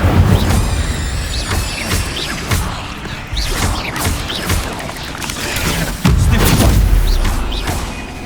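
Fire spell cast in the video game Hogwarts Legacy, a run of loud magical whooshes, crackling bursts and heavy thuds in close succession, with a strong impact near the end.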